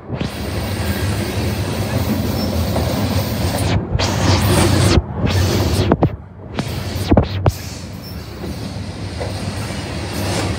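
A CSX freight train with two locomotives rumbles past close by, a loud continuous roar and rattle of wagons with rhythmic clacking over the rails, with no talk.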